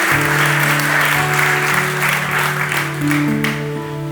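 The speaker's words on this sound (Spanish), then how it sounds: "Den un aplauso al Señor" A church congregation breaks into steady applause during a sermon, with sustained organ or keyboard tones holding underneath the clapping throughout.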